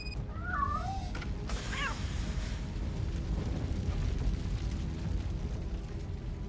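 In the game RoboCop: Rogue City, a cat lets out two short, plaintive meows close by early on. A continuous rumble, like fire, runs under the meows and continues after them.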